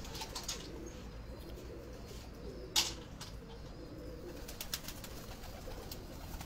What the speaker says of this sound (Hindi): ये स्लेटे कबूतर इन्हीं में से निकले हैं जो मुझे मुबशर साहब ने दिए थे